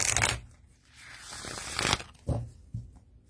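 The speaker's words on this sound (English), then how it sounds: "Shuffles" Cardstock oracle card deck being shuffled by hand, a few crisp riffling bursts of cards separated by short pauses, close and moderately loud with no talking.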